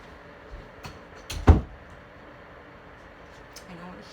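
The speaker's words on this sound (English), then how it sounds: "let me shut the door because I hear the wash machine" An indoor door is shut with a single solid thud in the middle of a quiet room, preceded by soft handling clicks and followed by faint background hum.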